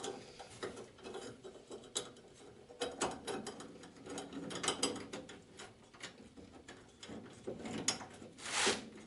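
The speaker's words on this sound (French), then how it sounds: "comme ça je peux visser ces fameux boulons" Bolts being tightened with a ratcheting tool while a Xantia interior is fitted into a Citroën Traction 11B, giving close, repeated clicking ratchet strokes with irregular pauses and some metallic handling noise.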